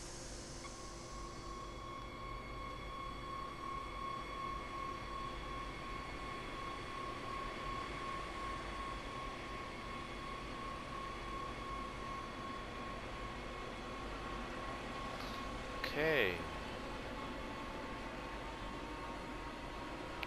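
A train accelerates in the Train Sim World video game: a steady, moderately loud mechanical hum with a sustained tonal whine runs throughout, and a short sharp hiss or squeal rises near the end.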